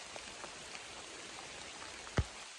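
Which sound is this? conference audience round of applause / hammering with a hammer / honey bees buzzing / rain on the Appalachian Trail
rain on the Appalachian Trail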